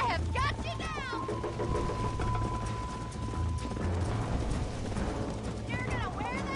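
Horse hooves clip-clop in a fast galloping rhythm under game music and voices, with occasional whoops and a horse's whinny, in the video game Red Dead Redemption.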